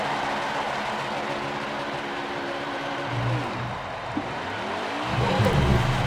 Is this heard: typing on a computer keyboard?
no